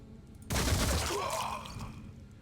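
A weapon firing in the tactical game Phoenix Point: an abrupt loud blast strikes after a brief quiet lead-in, then decays slowly into a long roaring, rattling tail.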